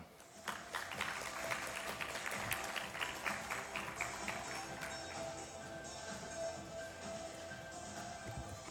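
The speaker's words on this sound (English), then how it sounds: "Join me in a round of applause, please, to Ms." Audience applause for a speaker at a participatory governance gathering: a dense, steady crowd clapping that stays fairly even throughout, moderately distant, with no talking over it.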